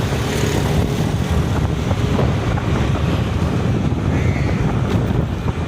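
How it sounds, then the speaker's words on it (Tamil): Cool wind blows steadily outdoors near a seafood market, a constant loud rushing roar buffeting the microphone with no clear gusts or breaks. "வெயில் இல்லாதால சில்லுன்னு காற்று வருது."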